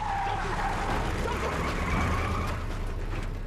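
A car pulling away during a heated argument, heard as a steady engine and road rumble with a rising whine. It is moderately loud, and people shout over it.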